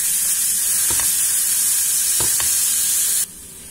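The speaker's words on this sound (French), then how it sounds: "je vais rajouter ma viande. Et je vais la faire revenir jusqu'à ce qu'elle s'émiette complètement" Ground meat for Turkish borek fries in a pan with a loud, steady sizzle, broken by a few stirring scrapes, before the sound cuts off abruptly.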